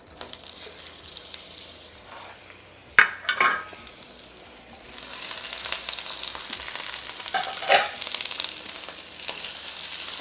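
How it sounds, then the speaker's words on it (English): Onions and peppers dumped into hot oil, a soft, fairly quiet sizzle with a couple of sharp clatters and occasional popping, swelling louder in the second half with no talk. "I'm going to dump the onions and peppers in."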